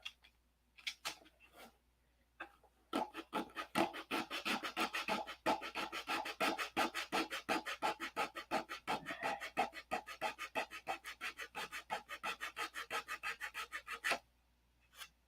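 A carbide wheel grinds away material on a half-scale Cobra build, making a fast run of rhythmic rasping, scraping strokes that continue for about eleven seconds, close and fairly loud, after a few scattered scrapes.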